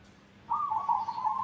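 A local perkutut, or zebra dove, gives a clear, tonal cooing call that starts abruptly and holds steady for about a second, sounding fairly close over quiet background hiss.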